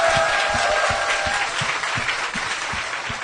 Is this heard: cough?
no